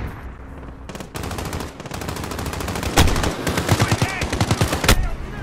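Automatic rifle fire in Call of Duty Modern Warfare, aimed through a wall, rattles in fast repeated volleys with sharp cracks standing out, close and loud, with voices faintly under it.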